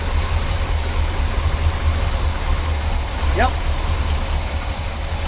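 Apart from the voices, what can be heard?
Chevy 350 V8 engine running in squarebody truck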